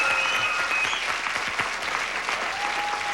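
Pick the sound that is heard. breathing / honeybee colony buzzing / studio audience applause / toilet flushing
studio audience applause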